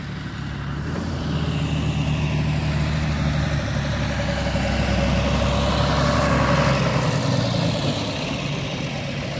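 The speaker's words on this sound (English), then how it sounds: "here we have a John Deere coming" A heavy diesel John Deere tractor engine rumbles steadily and loudly, its low chugging growing a little stronger as it draws nearer.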